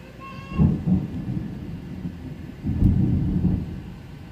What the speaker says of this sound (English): it is now storming and raining